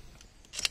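A faint, quick double click of a torque wrench, sharp and close, after a moment of near silence.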